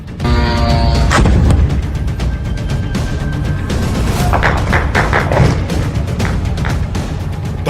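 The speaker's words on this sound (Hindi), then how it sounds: "धमाकों से गूंज उठी मनामा की रात।" Explosions from a missile attack at night in Manama, Bahrain. Heavy booms and rumbling blasts roll on, with a crackling burst of impacts and debris and a brief tonal whine early on, loud and continuous.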